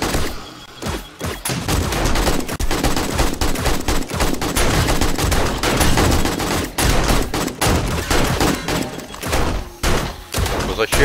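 7 Days to Die gunfire plays as loud, sustained automatic bursts of rapid shots with thuds mixed in, nearly continuous and close, with brief gaps and a voice talking over it.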